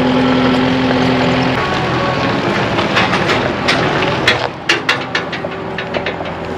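A 2024 Kubota SVL75-3 compact track loader engine runs steadily at low throttle, with a broad constant drone and a few sharp knocks and clatters near the end.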